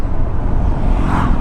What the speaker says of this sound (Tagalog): nagka-traffic na dito, ah.